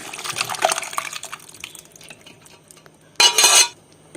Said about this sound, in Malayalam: ഇനി നമുക്കിതിലേക്ക് നമ്മൾ നേരത്തെ വേവിച്ച് വെച്ച പരിപ്പും ഇട്ട്